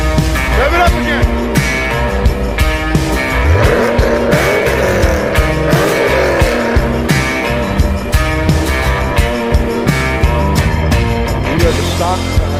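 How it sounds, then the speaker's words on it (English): A car engine with a stock intake revs loudly and continuously up close, a dense roaring mechanical drone that holds strong throughout, with occasional faint voices beneath it. "Rev it up again."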